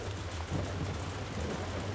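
Steady rain hiss in a racing video game, driving a 1969 Dodge Charger Daytona, with a constant low engine drone underneath; the broadband wash of rainfall stays even and continuous throughout, no voices.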